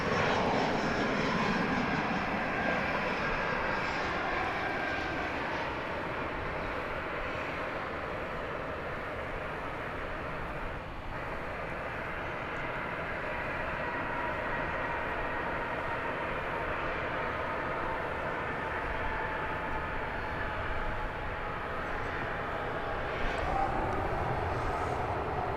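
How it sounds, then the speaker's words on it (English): An American Airlines Boeing 787 takes off from runway 18 left at DFW at night, its engines building into a long, sustained roar with a falling tonal whine, heard from a distance and steady throughout. "here for takeoff, 18 left, American 787."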